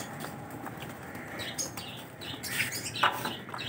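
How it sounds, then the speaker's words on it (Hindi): Wild pigeons coo and birds chirp outdoors, with a brief flutter of wings among scattered calls. "जंगली कबूतर भी आए हुए हैं"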